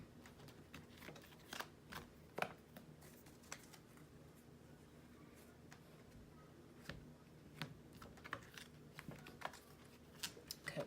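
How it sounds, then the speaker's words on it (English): Tarot cards being cut and shuffled by hand, a series of soft, crisp snaps and riffles scattered irregularly over a quiet room, close and fairly faint with no talking. "let's go and cut the deck for you"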